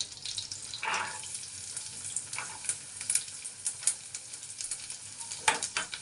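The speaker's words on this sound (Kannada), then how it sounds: "ನಾನೀಗ ಬರೀ ಬೆಳ್ಳುಳ್ಳಿ ಹಾಕೋತಾ ಇದ್ದೀನಿ." Garlic frying in melted butter in a hot pan while butter chicken is being made: a steady close crackling sizzle with scattered sharper pops and stirring clicks, and no talking.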